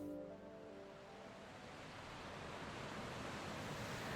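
Ocean waves wash steadily onto a sandy beach, a continuous broadband surf rolling in and retreating, fairly loud and close, with no voices present.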